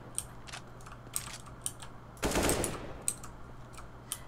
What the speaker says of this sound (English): Can you, like, shoot through these boxes?